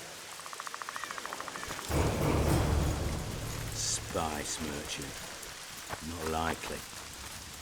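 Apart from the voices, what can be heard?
rain in the video game The Witcher 2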